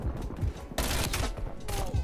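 A Mac 10 submachine gun fires in a Call of Duty video game, a quick chattering spray of rounds that returns in repeated close, loud bursts.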